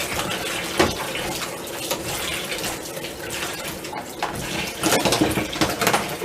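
A metal spoon churning liquid in a home brew bucket, with continuous sloshing and splashing and occasional clinks of metal against the bucket wall.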